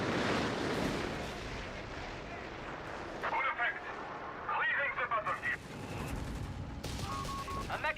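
A butterfly bomb paradrop in Company of Heroes 3 during a 1v1 match: a rumble of explosions and artillery-like blasts, with scattered bursts of gunfire and a commentator talking over the battle.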